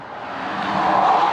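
A car passes on a nearby street as background traffic, a soft broadband rush that swells gradually over a brief moment.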